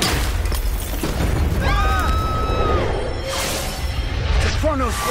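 A chrono device breaking and exploding in the video game Tower of Fantasy, a loud booming crash with a rumbling low burst, followed by rising and falling synthetic tones and a sustained roar.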